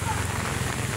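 Heavy rain pours steadily over a garden with plants, a dense, close hiss lasting about a second, with a voice talking over it.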